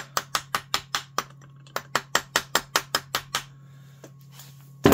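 A metal bit tapped repeatedly against the gear case of a Black & Decker heavy-duty spade-handle drill, a quick run of sharp clinking knocks in two bursts, close and distinct, ending with a louder clunk.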